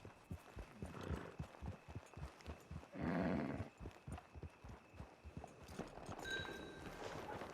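Horse hooves clip-clopping in the game Red Dead Online: a steady, rhythmic run of hoof beats at moderate distance, with a brief burst of louder rustling midway and a faint higher tone near the end.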